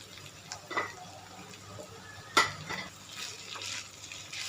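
Fried paneer tipped into a pan and stirred into a peppery stuffing, soft sizzling with a few sharp clinks and scrapes of the spoon against the pan, close and fairly quiet.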